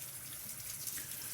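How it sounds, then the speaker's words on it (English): Cold water runs steadily from a bathroom tap into the sink during a safety-razor shave, a constant close hiss and splash with no talking. "Now I do have cold water running"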